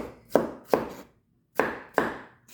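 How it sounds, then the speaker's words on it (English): Onions being chopped on a board in a home kitchen: four crisp, evenly spaced knife strikes in two pairs separated by a short pause, close up and loud, with no voices. "So I cut down my onions."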